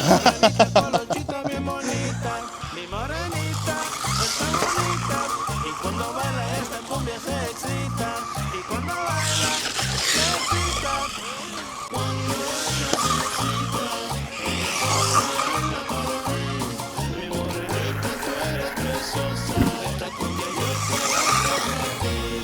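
A budget RC short course truck runs on an outdoor track, its small electric motor whining and rising and falling through repeated accelerations, with tire scrabbling and skids, loud and close for the whole stretch.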